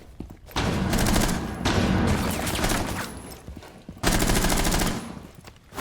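Automatic gunfire in Rainbow Six Siege, loud sustained bursts of rapid shots in two long strings separated by a short pause, close and dominant.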